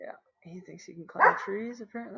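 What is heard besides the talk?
dog barking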